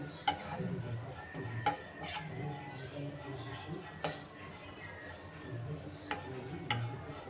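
Ladle stirring in a steel kadhai, with scattered sharp metallic clinks and scrapes at an irregular pace over a low frying hiss, close and moderate in level.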